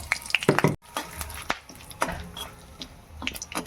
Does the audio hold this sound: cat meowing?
no